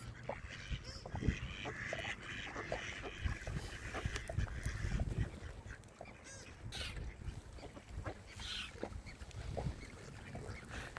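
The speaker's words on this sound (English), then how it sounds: "And a million ducks." A flock of ducks quacks faintly in the distance, scattered calls against soft outdoor background noise.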